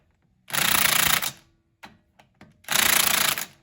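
An electric power wrench torques wheel lug nuts on a vehicle raised on a rotary lift, giving two loud rattling bursts of about a second each, separated by short clicks.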